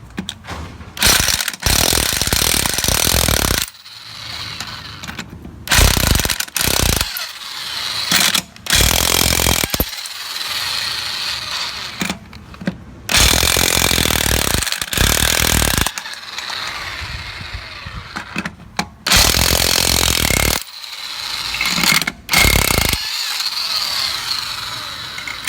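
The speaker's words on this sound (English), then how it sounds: "Using your 19mm socket, go ahead and remove the lug nuts." An impact wrench or ratchet with a 19mm socket spins lug nuts off a Jeep Cherokee XJ wheel in a garage, loud bursts of whirring and rattling mechanism repeated in long runs with short pauses between nuts.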